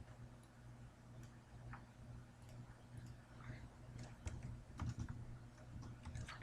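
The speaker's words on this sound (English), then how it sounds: "If I could type." Someone types on a computer keyboard in short irregular bursts of quiet clicks, close but faint over a low steady background hum, with no talking.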